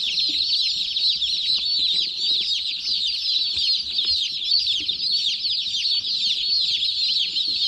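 Dense, loud chorus of day-old chicks peeping nonstop at close range, with many high chirps overlapping continuously indoors on a farm.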